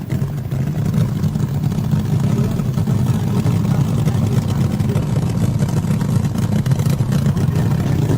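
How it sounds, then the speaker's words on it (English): Ramcharger funny car drag racing engine from 1970-1971 racing, a steady loud roaring drone held continuously throughout without a break. "Listen to that Ramcharger's motor."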